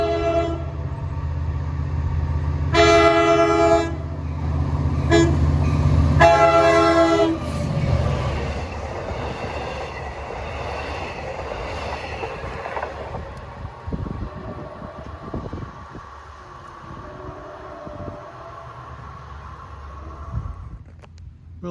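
Horn of Long Island Rail Road train 76, Jamaica to Patchogue, led by DE30AC locomotive 418, sounding several loud blasts as it approaches, followed by the rumble and rattle of the passing train that fades away.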